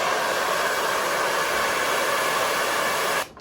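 A hair dryer blows out hair at close range with a steady, loud rushing whoosh that holds for about three seconds before cutting off abruptly.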